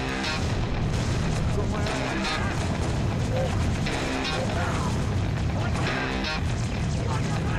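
Booming explosions and gunfire fill the Halo: The Master Chief Collection campaign, with a grenade blast among dense, continuous combat noise and voices talking over the din.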